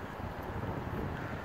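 Strong wind gusts buffet the microphone in a residential area of Vancouver, a dense continuous roar of low rushing noise with no pauses, loud and close.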